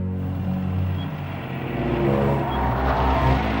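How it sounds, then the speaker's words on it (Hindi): A car pulls away from a workplace exit, its engine a steady close rumble that holds and swells slightly as it moves off. "अरे ये तो दिव्या मैडम की गाड़ी निकल गई यार"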